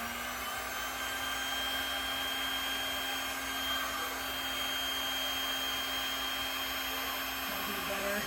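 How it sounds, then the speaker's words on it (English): A heat gun blowing over poured resin gives a steady, even whirring hiss with a constant motor hum, close and unbroken throughout, while faint voices murmur underneath. "getting cells with a heat gun"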